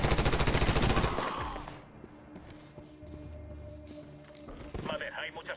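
Rapid automatic gunfire rattles loudly up close during a Medal of Honor video game firefight, then fades into a lower battle rumble and returns at the end.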